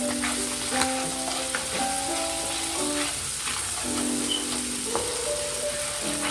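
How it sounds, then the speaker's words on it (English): Garlic butter sauce sizzles and fries in a pan over low heat, a steady crackling hiss with occasional clinks of a utensil stirring, close and continuous with no talking. "You kind of want to cook your sauce on low heat, just so the garlic doesn't burn"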